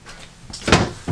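A kitchen storage cupboard door in a 2021 Keystone Montana 382TH fifth-wheel RV opens or closes with a short wooden knock and rattle, close by, followed by a second softer bump.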